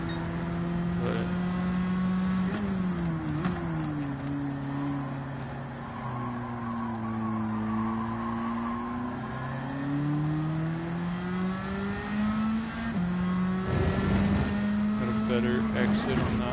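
JUN Auto Mechanic S15 Silvia in a racing video game, engine droning steadily throughout with pitch rising and falling through gear changes, loud and close, with speech-like background over it.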